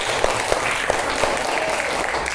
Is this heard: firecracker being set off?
no